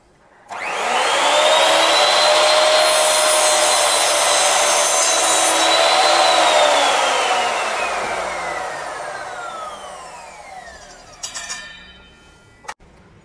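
A Ronix miter saw slices through Dutch teak wood in one long, loud, continuous cut that winds down as the blade spins to a stop, followed by a few brief clicks and knocks near the end.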